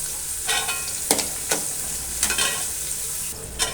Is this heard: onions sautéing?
yes